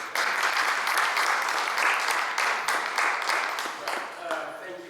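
Audience applause at a Nigerian youth congress inauguration in London, a hall full of steady clapping, loud at first and gradually thinning toward the end, with faint voices beneath.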